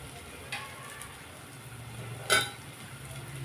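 A spoon stirring chicken masala in a pan, with two distinct clinks of metal against the pan over a soft, low background of cooking.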